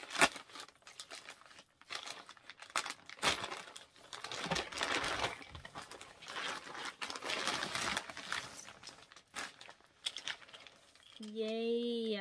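Plastic wrapping on a freshly delivered 2023 planner crinkles and rustles in bursts as the package is worked open, with a brief voice near the end.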